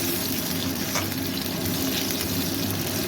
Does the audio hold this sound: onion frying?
yes